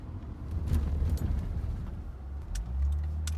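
A manual car pulls away and accelerates, its engine a steady low rumble rising slightly in effort, with a few faint clicks and jingles from inside the cabin and no talking.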